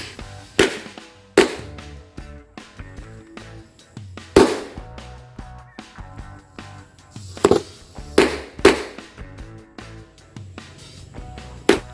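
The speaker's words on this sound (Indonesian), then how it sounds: "ini yang selanjutnya kita nyalakan mercon korek yang warna biru dan juga yang warna kuning." Blue and yellow matchstick firecrackers go off outdoors at dusk in a scattered series of sharp, loud pops, about eight main bangs with smaller crackles between them, set in soil.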